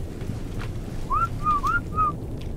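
Whistle command sounds in the video game Ark, with three or four short rising whistle tones in quick succession over a steady low background rumble.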